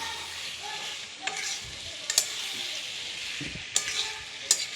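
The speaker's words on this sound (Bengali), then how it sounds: "দিয়ে নাড়াচাড়া করে নেবে" Pasta being stirred in a pan of sizzling liquid, with a steady frying hiss and a few sharp scrapes and clacks of the utensil against the pan, close and alone with no talk.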